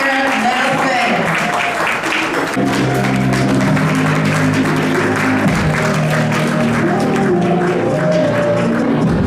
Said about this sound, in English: Another round of applause for Dr. Claire Nelson.